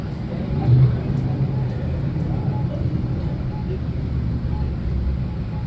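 A 1934 Ford Coupe idles and rolls along slowly in a Veterans Day parade in Martinsburg, West Virginia, its low engine rumble steady and moderate beneath a public-address announcer's voice.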